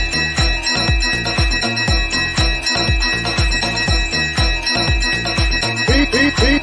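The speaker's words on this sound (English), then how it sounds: "Ring the bell." A bell rings in a fast, steady run of struck tones, about two strikes per second, loud and close, going on without a break and with no voices over it.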